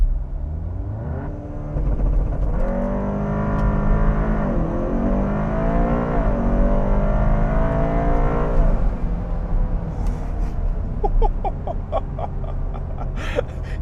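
Hard launch of a tuned VW Golf Alltrack with 16 psi of boost: the engine note climbs through a long pull, dips at a gear change and climbs again, then drops to a lower cabin drone, with short clicks near the end.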